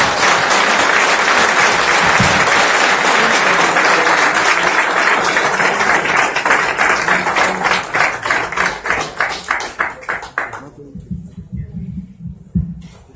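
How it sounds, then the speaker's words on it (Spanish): A large audience at a formal official event bursts into loud, dense applause that holds for several seconds, then thins into scattered separate claps before fading, with a few faint voices near the end. "Un aplauso por todos los presentes."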